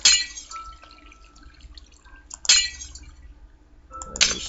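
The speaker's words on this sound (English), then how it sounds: "just taking out all the extra blocks here" Extra blocks get broken in Minecraft, a video game, with sharp glassy crunching breaks at the start, middle and end, separated by quieter stretches.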